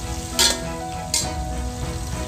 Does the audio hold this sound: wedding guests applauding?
no